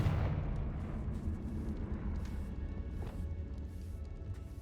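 Confringo spell explosion in Hogwarts Legacy: a loud, booming blast that rolls into a dense, sustained rumbling roar with faint crackles, filling the whole clip.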